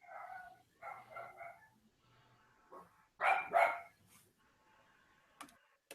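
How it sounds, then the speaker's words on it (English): Dogs bark faintly in the background of a home recording, with several short clusters of yips and barks spread unevenly, the loudest burst midway through, and no speech. "Dogs in the background."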